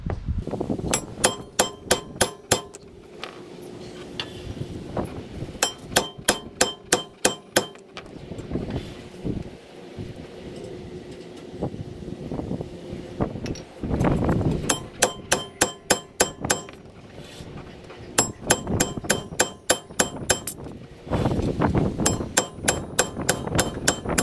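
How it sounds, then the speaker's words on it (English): A 4-pound sledgehammer pounds a worn brake rotor on a 2002 Lexus SC 430, delivering repeated loud metallic clangs in rapid series separated by brief pauses. "I'm gonna get my 4-pound sledgehammer. I'm gonna be pounding the rotor."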